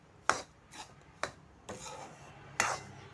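Semolina (rava) roasting in ghee in a pan is stirred, giving five rasping scrapes at an uneven pace, each a short gritty burst. The scrapes are close and fairly quiet, with no talk over them.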